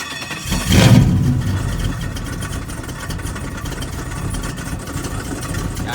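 A car engine idles with a metallic clanking from loose torque converter spacers, a rough steady rumble that swells briefly near the start and then settles into an even idle with faint knocking throughout.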